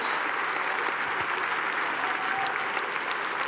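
Steady applause from an audience for a driver at a virtual equestrian show event, a continuous wash of clapping at moderate, somewhat distant level with no talk over it.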